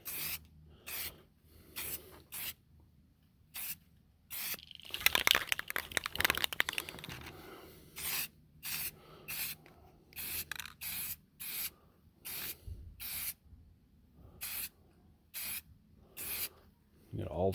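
Short hissing bursts of rattle-can spray primer land on an SD40-2 model locomotive, close and repeated at an irregular rhythm, with one longer stretch of spraying near the start.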